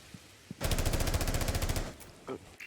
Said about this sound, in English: he may want to watch out from those bullets from JK, since the SMG11 is unforgiving